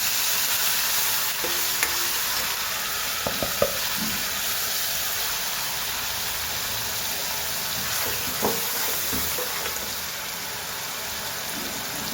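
Steady, dense sizzling of onion, tomato, green chili and garlic frying with hing in hot oil, continuous and fairly close, broken by a few faint clicks of stirring.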